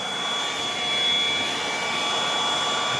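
A cordless Aoetree 20V jobsite blower runs steadily on its low setting, producing a continuous, fairly loud airy whoosh with a faint high whine. It holds an even level throughout, with a slight swell near the middle and no talk.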